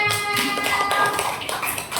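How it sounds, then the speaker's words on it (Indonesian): Classmates clap for a student, Mbak Amel, in an Indonesian classroom lesson on umrah; a dense patter of many hands fills the clip at steady strength with no voices. "Kasih tepuk tangan untuk Mbak Amel"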